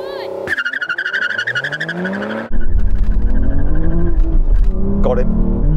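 Aston Martin Valkyrie, Vanquish and V12 Vantage launch together in a drag race: a rising engine note builds, then a loud, sustained roar with tire noise fills the rest, close and dominant.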